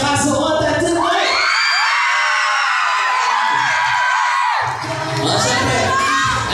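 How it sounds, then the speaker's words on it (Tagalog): A crowd at a celebrity show debut cheers, whoops and shouts loudly and continuously, with high excited voices swelling throughout and a brief dip near the end. "Pumalakpak at humingaw lahat na nagsasabi na bagay kay Nadine ang kanyang kasuotan tonight"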